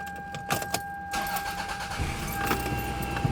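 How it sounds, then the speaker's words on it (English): A Toyota Camry with 227,075 miles, after a misfire repair, starts up: a few key clicks and jangles, then the engine cranks and catches into a steady close idle, with no talking. "I'm about to start the car"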